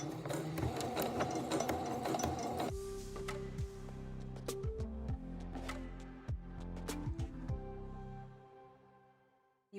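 An electric sewing machine backstitches while sewing a zipper pouch with a curved top, first a dense steady whirring run, then slower stop-start bursts of needle clatter and motor hum, close and fairly quiet, no talk.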